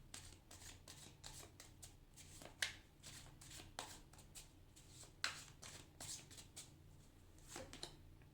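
Tarot cards being shuffled and drawn, a quiet close run of papery riffles and flicks with a few sharper snaps, no speech.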